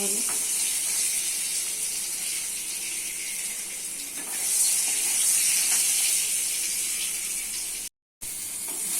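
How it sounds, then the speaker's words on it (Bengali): Pointed gourd (potol) frying in hot oil gives a steady, loud broadband sizzle and hiss that swells briefly midway, with a short cut near the end and no talk. "তেল গরম হয়ে গেছে দিচ্ছি পটল পটলগুলো একটু ভেজে দিতে"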